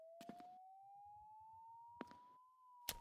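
A police car siren wails in a Christmas indie horror video game, a steady tone rising slowly throughout, cut by a few sharp thuds and clicks.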